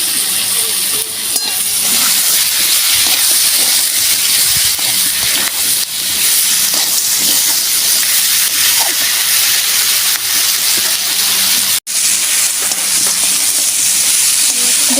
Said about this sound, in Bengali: আমি খুব সুন্দরভাবে পেঁয়াজ আর কাঁকড়া ভালো করে ভেজে নিয়েছি।